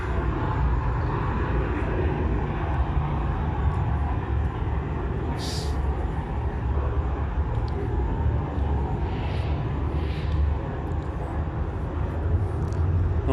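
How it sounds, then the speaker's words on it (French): Roaring fire fountain art installation at the Gare Saint Sauveur in Lille, a steady loud broadband rush that continues without a break under crowd ambience, with faint talk in the background. "Une fontaine en feu."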